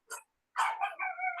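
A pet dog barks in a home setting, a short yip followed by a longer sustained bark and whining howl, close and fairly loud, with no talk over it.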